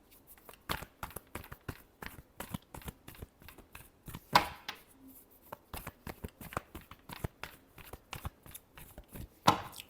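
Tarot cards shuffled by hand in a steady run of soft papery taps and riffles, close and quiet, with brief louder slaps and no voices.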